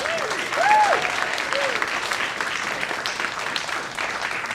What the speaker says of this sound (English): Let's give a warm round of applause to Michael Markowsky.